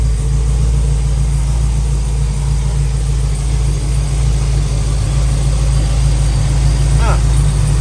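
A car with an LSA engine idling, a loud, steady low rumble that holds even throughout, close by, with a brief higher sweep near the end.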